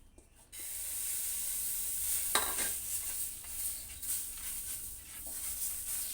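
Gola roti, a batter flatbread, frying in a pan, giving a steady close sizzle and hiss with a few brief scraping touches, heard alone without talk.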